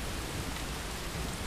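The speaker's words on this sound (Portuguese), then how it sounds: "Isso aqui é agora é chuva mesmo" Steady rain hisses as a dense, even wash of noise in Call of Duty Modern Warfare 2, filling the short stretch without pauses or voices.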